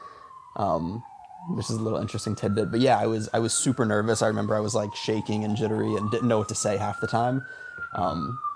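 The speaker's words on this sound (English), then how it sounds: "I'm in Brooklyn, and so there's always sirens and everything going by." A police siren wails along a Brooklyn street, its rising and falling tone sweeping continuously behind someone speaking close up, clearly audible beneath his talk for the whole stretch.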